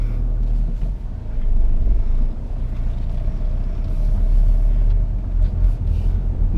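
Cabin of a 2002 first-generation Ford Focus 1.8 TDDI diesel on the move, a steady loud low rumble of engine and road noise throughout with no talk.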